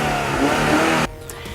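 A 2014 Mazda Miata MX-5 engine revs loudly up close for about a second, a steady rising rasp that cuts off abruptly into a quiet idle.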